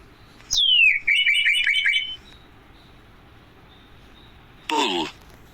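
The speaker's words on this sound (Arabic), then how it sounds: "عصفور." A small bird sings a short, bright run of rapid chirps up close, and a brief spoken word follows after a pause.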